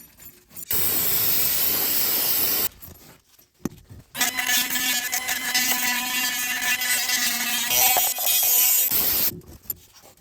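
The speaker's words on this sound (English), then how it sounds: "I can spray some brake cleaner in here" Brake cleaner sprayed into the front wheel hub of a BMW F2x/F3x xDrive during a wheel bearing replacement: a sharp two-second aerosol hiss, a brief pause, then a longer, sputtering blast of spray lasting about five seconds, loud and close.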